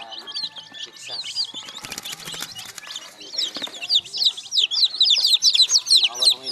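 Bantam and Texas chickens, a hen with many chicks, cluck softly while the chicks peep in rapid, high, overlapping bursts that grow busier and louder toward the end, close by, with a person talking.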